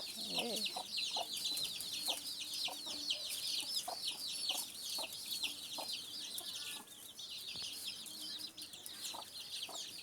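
Black chickens cluck around a backyard coop, soft repeated clucks and chirps close by over a steady high insect-like hiss, with no talk.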